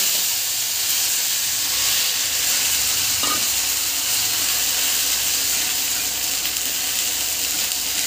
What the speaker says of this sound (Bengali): এবার আমি খানিকটা তেল নিয়ে নিয়েছি, এতে আমি দিয়ে দেবো আদা রসুন পেঁয়াজ বাটা আর ধনে পাতা বাটা।